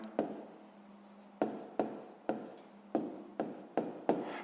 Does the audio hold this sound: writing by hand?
yes